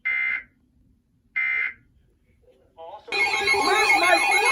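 Emergency alert tones from phones sound during a nor'easter coastal flood warning: two short shrill beeps, a pause, then a loud warbling alarm blares continuously from several devices nearby.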